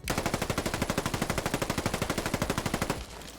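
A QBZ-191 Chinese assault rifle fires in Fallout 4, one sustained automatic burst of about thirty rapid, evenly spaced loud shots that stops abruptly near the end, leaving a short dull tail.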